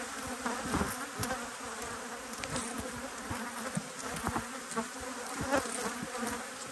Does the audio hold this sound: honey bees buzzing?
yes